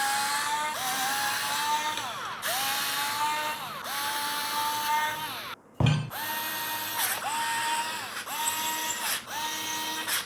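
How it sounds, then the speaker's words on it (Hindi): A power screwdriver drives screws to tighten the mounting plate of an LG 27QN880 Ergo monitor stand, its motor whirring in repeated rising bursts with short pauses and a brief clunk midway, close and loud with no talk. "जो ऊपर वाला 4 होल है इन चारों होल में सेम स्क्रू के हेल्प से इस प्लेट को टाइट कर लेते हैं।"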